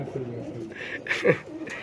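Wild pigeons coo close by, a few soft throaty calls rising and falling in a short sequence, with faint background noise and a brief sharper burst in the middle.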